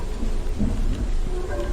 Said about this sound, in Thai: นอกฝนตกแล้ว